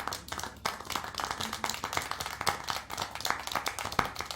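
Rapid, steady hand clapping in the video game Syberia: The World Before continues throughout, fairly quiet and evenly paced.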